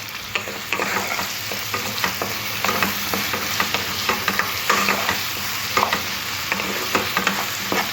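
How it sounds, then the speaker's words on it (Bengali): Onion, potato and tomato frying together in a pan for katla fish curry, a continuous close sizzle broken by regular scraping clicks of stirring. "এবার সব কিছু একসাথে ভাজতে হবে।"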